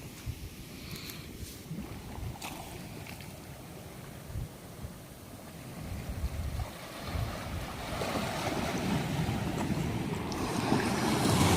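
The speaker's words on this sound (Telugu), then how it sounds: "దీవి కన్నా అలలు ఇక్కడ చాలా తక్కువ అనమాట" Sea waves at Pariserivaripalem beach, where the surf is small, give a steady wash of surf mixed with wind noise on the microphone, swelling slightly louder toward the end.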